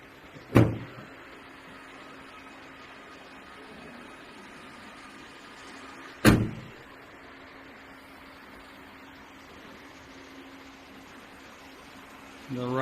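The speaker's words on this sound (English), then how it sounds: "Right sliding door." Right-side sliding door of a 2025 Wuling Mini EV electric city bus with 14 seats, giving two sharp slamming thuds about six seconds apart over a steady low background hum, with a third beginning at the end.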